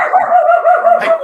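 A dog gives a quick run of loud, close, high yipping barks in a steady rhythm at a home draft party.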